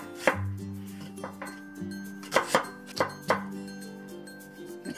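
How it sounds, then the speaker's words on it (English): A knife slices through an onion on a cutting board while prepping vegetables for chow mein, giving a handful of sharp, close chopping knocks spaced irregularly with quiet gaps between, no talking. "I'm gonna slice the onion."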